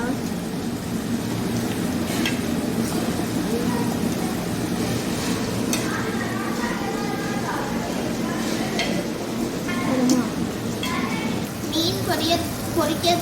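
Brinjal sizzles frying in a pan, seasoned with pepper powder and stirred continuously, with a person talking throughout.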